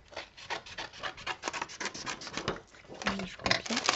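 Scissors cut paper for a scrapbook album in a quick series of close, crisp snips and rustles, quiet and steady, with no talking.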